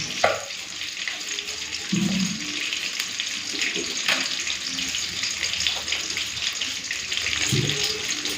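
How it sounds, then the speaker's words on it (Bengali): Vegetables such as potatoes, cabbage and spinach are rinsed under a running tap, water streaming steadily and close with occasional clatters and splashes. "দু তিনবার ভালো করে ধোয়াধুয়ি করে নেবো"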